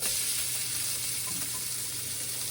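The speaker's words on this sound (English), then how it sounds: "Half of a sweet yellow onion. I'm just gonna let that cook for a second." Half a sweet yellow onion frying in a pan for beef stroganoff, a dense, even sizzle that holds steady and close for a couple of seconds with no talking.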